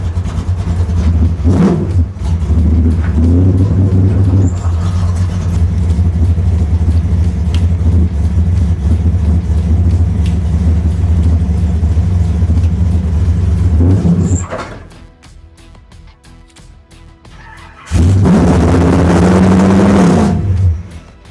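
A car with a throttle that sticks runs loud along a rough rocky road, its engine droning and revving steadily, then dropping away briefly before surging back, with stones audibly rattling against the windshield.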